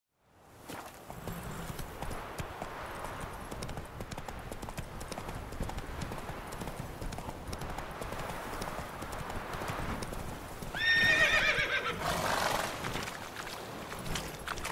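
Clip-clop of the horse Roach trotting steadily in The Witcher 3: Wild Hunt, hooves continuous and fairly near, with a brief louder neigh partway through.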